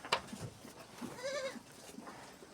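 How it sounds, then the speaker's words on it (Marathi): A goat in a shed gives one clear bleat in the middle, fairly faint, among soft shuffling and knocking from the herd. "हे सगळ्या शेळ्या मित्रांनो ज्याच्या त्याच्या जागेला जाऊन उभारतात।"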